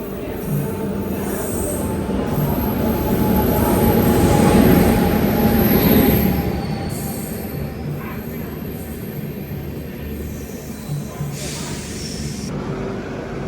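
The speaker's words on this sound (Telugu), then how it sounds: "కోవెల్పట్టి నుంచి మన బండి బయలుదేరింది." Amrit Bharat Express pulling out of Kovilpatti station on its inaugural Nagercoil–Hyderabad run: a steady rumble of rolling coaches and wheels with faint squeal, swelling briefly before settling into an even, continuous ride noise.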